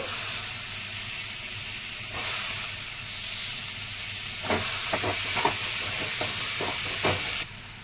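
Raw banana pieces frying in a pan for a masala curry, giving a steady sizzle and hiss with a series of sharp stirring scrapes in the second half.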